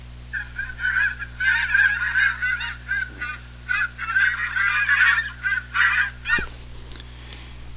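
A flock of geese honks repeatedly, their calls overlapping in bursts with short pauses, fairly clear against a steady low hum.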